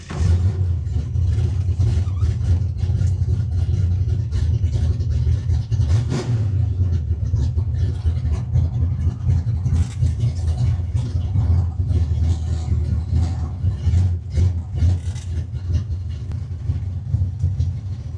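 A 1965 Mustang's 347 stroker V8 with roller rockers and a hard-hitting cam rumbles down the road, a loud, steady low drone with choppy lope and occasional pitch swells, heard up close without speech.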